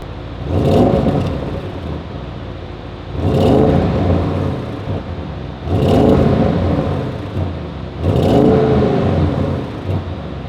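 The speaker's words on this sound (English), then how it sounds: "Now let's just give it a little couple baby revs." Four short engine revs from a stationary Audi RS6 wagon in park, each rising to a roaring peak against the rev limiter and easing back to a steady idle rumble between them.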